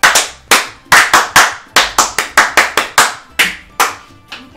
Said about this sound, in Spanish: un aplauso para Briseida Reyes